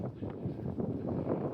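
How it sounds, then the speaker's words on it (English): Wind gusting outdoors, a steady low rumble and buffeting against the microphone that runs throughout, with soft fluctuating swells and no clear talk over it. "it's windy here"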